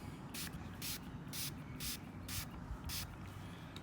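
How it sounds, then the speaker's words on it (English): Six short bursts of a spray bottle misting cleaning solution onto polishing pads, evenly spaced and fairly close, over a low steady background hum. "spray a couple sprays on here"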